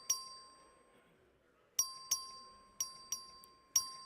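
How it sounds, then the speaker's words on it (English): The clerk's voting bell in the Texas House chamber strikes several clear, ringing dings at irregular intervals, each fading quickly, over a quiet hall with only faint background murmur. "The clerk will ring the bell."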